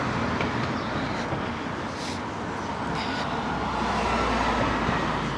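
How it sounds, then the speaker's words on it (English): A steady rumble of a small tourist road train rolling past outdoors in Tsilivi, Zakynthos, with continuous mechanical noise and traffic hum, no talking. "You've got your excursions, with the little fun train."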